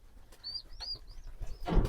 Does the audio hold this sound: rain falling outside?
no